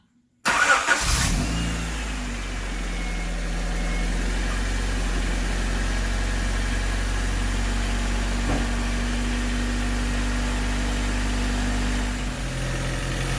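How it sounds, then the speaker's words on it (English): A 1988–91 Honda Civic EF cranks and fires up, then settles into a steady, even idle with a low engine hum that runs alone close by for over ten seconds before cutting off. "So let's fire up the car first."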